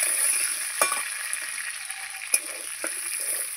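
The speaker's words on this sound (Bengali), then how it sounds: "আমি আলুগুলো ভালো করে ভেজে নেব" Potatoes frying in a pan give a steady bright sizzle throughout, with a few quick scrapes and clinks of a stirring spoon, near and without voices.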